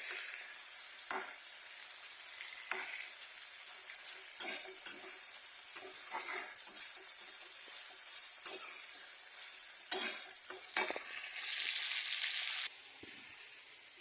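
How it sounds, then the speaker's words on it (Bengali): Green chillies fry in leftover oil from frying fish, a steady bright sizzle that lasts the whole time, broken by occasional scrapes and clicks of stirring. "এই যে মাছের তেল ভাজা আসছে এই যে লঙ্কা দিছি"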